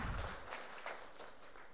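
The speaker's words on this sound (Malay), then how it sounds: "sama-sama kita berikan satu tepukan gemuruh kepada yang berbahagia Datuk" An audience at a monthly government-agency assembly applauds a Datuk, a steady, dense patter of many hands clapping, heard at moderate distance and fairly quiet.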